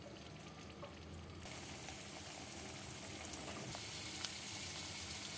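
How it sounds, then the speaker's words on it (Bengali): Half-cut boiled eggs coated in cornflour fry in hot oil, a soft, steady crackling sizzle that grows slightly fuller partway through, with a few faint clinks, no voices. "হাফ করা ডিম কর্নফ্লাওয়ারে মাখিয়ে আমি এটা তেলে ভাজবো।"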